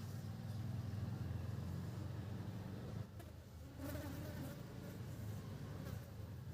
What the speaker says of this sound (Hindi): क्या मक्खी उड़ रहा है पूरा।